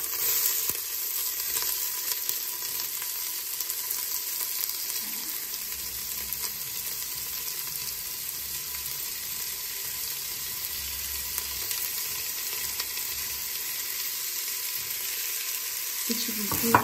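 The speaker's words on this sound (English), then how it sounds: "Add your onion." Onion fries for a lamb curry in a pan, giving a steady, even hiss of sizzling oil with faint stirring, close and unbroken, no voices.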